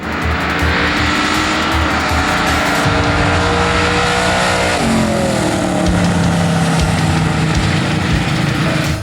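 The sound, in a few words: street racing cars accelerating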